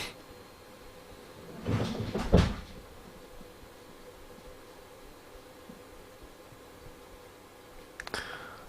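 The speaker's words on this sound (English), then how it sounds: "Sounds like the dog's knocked my telescope over again." A telescope knocked over by a dog lands with a pair of muffled clattering thumps close together in the background of a quiet room, followed by a fainter knock a few seconds later.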